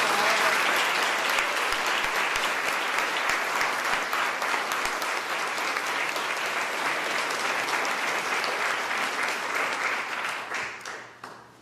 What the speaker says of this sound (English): can we just give all of our students a round of applause?